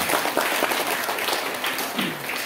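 An audience claps steadily for new students at a Tabligh Akbar gathering in an Indonesian modern Islamic boarding school hall, a dense wash of applause that fades slightly toward the end.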